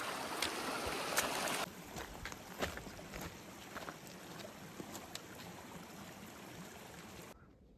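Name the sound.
creek water flowing beside hiking trail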